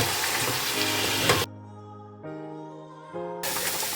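Mushroom mock meat fries and browns in a pan as its liquid cooks off. A loud, dense sizzle drops out in the middle and returns at the end.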